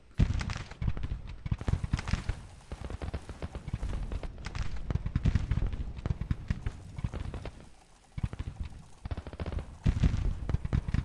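Civil War troops in a video game let off scattered musket shots, popping repeatedly amid heavy galloping hoofbeats and battlefield clatter, moderately loud and continuous.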